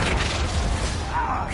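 A Bombarda spell explodes in the Hogwarts Legacy video game, a dense, booming burst that fills the whole short moment at steady loudness, with a thudding low rumble under the blast.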